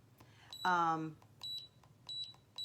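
Short electronic beeps repeat at a steady pitch, three brief tones spaced apart, with a person's voice briefly cutting in between the first and second.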